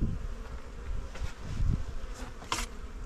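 Bees buzz and hum from an opened beehive at close range, a continuous low drone with brief louder swells as individual insects pass near.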